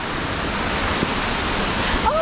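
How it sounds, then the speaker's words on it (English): A waterfall on a flooded forest trail descending Mount Roraima roars as a steady, close wash of broadband rushing water. A brief voice rises over it near the end. "I think we passed by this waterfall."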